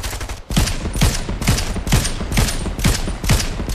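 Rapid, evenly spaced gunshots from a Fortnite firefight, a rhythmic series of loud, punchy cracks with deep thumps, firing continuously and close up with no talk.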